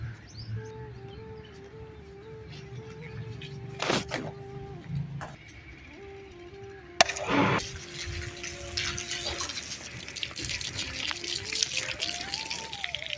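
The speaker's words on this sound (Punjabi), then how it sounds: "ਇੱਟਾਂ ਦੇ ਨਾ ਮੈਂ ਪਾਣੀ ਛਿੜਕਾ ਦਿੱਤਾ" Water is sprinkled by hand onto bricks set with mud, giving a soft, steady hiss of spray and light splashing, with a faint tone and occasional bird chirps behind it.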